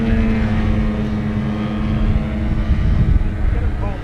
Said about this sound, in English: both of these aircraft powered by 50, roughly 50 or 55 the gas two-stroke